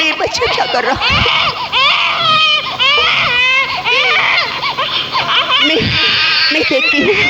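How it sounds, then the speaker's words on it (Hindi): A baby wails loudly and continuously in a forest scene from a Hindi film, with sobbing, rising cries and short breaths throughout. "बच्चे की रोने की आवाज"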